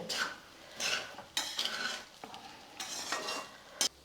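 Egg rice being mixed with salt in a pan: bursts of spoon scraping and clinking against metal, separated by short pauses, near and fairly quiet, with a soft sizzle beneath.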